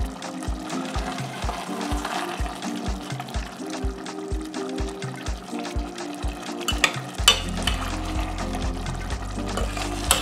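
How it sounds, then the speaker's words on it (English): Nigerian egusi soup with clumped melon balls is stirred in a pot, a thick wet churning with regular scraping strokes and a low bubbling under steady background music, heavier and more continuous near the end. "I'm going to stir again."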